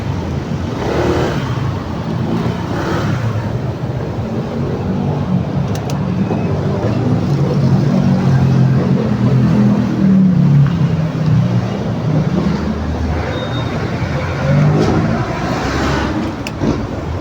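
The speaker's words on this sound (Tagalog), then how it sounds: "Andiyan na yung guard na may motor na isa, yung malapad." A guard's motorcycle arrives with a steady engine drone that swells in the middle as it draws near, then eases off. Voices talk faintly now and then over it.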